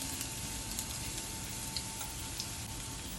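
Chopped garlic sizzles in hot oil in a pan, a steady dense crackle with scattered small pops for a few seconds, close and fairly quiet, no voices.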